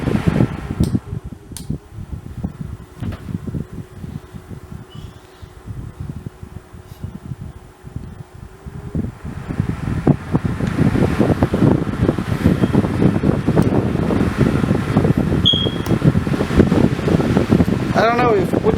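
Ridgid and Dewalt 18-volt cordless jobsite fans running on their low setting, giving a steady whooshing airflow hum that grows louder and fuller partway through, with a person talking briefly over it.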